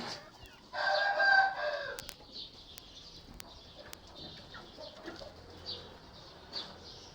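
A rooster crows once, loud and close, in a village coop of mixed-breed chickens, followed by soft clucking, a few sharp knocks and faint flapping in a quiet yard.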